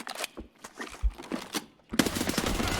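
Video game gunfire crackles in quick automatic bursts and single shots, loud and close, turning into a dense continuous volley near the end.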